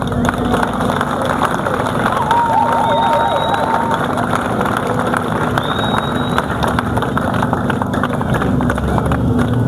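An assembly at a national service ceremony cheers and acclaims loudly, a dense continuous crowd roar with whistles and shouts rising over it.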